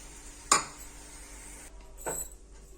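Black chickpeas are tipped into a pressure cooker in a home kitchen, giving a sharp metallic clatter followed by a second softer rattling pour, with faint background hiss and no talking.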